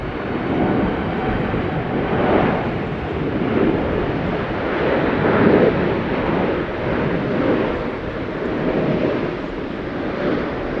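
A fixed-wing airplane lands at Schiphol Airport, a loud, broad roar of engine and rushing air that swells and fades in waves across the whole stretch, with no voices.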